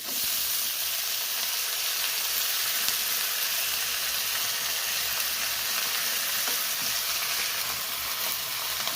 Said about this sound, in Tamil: கீரையை போட போகிறாங்க, போடுங்க.